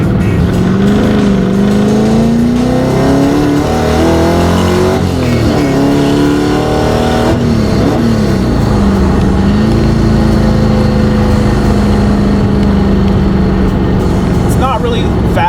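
A 2012 Hyundai Genesis with a swapped LS1 V8 drones loudly from inside the cabin, the engine pitch climbing and dipping through shifts with strong road and exhaust noise, while someone talks over it.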